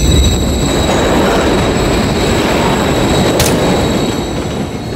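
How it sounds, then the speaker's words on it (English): A train in Call of Duty: Modern Warfare 3 rumbles past close by, loud and steady, with wheels squealing and a continuous rolling clatter. "Another train coming."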